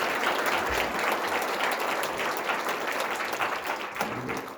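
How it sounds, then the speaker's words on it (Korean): A church congregation bursts into warm, encouraging applause during a worship service, a dense wash of many hands clapping steadily at close range with no voices over it. "격려 박수 한 번만 해주면 좋겠어요"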